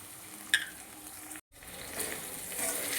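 Ginger paste hits onions frying in a pan for chicken biryani: a soft, steady sizzle with a sharp metallic clink near the start, a brief gap, then the frying swells slightly louder.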